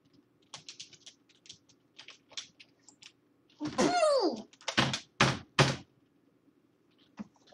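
Computer keyboard keys are tapped in scattered bursts, light clicks at first and then a cluster of louder, harder key strikes midway, with a few quiet taps at the end.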